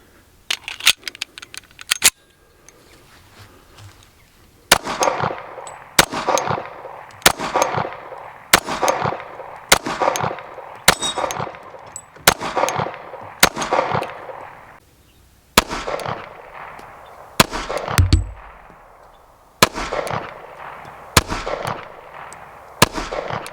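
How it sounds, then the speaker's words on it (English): Sharp, loud single shots from a Tisas 1911 Carry .45 ACP pistol firing jacketed hollow points at a range, spaced about a second apart with brief pauses between strings, each crack ringing out alone. "Again, we're just going to continue going and get a few more rounds downrange."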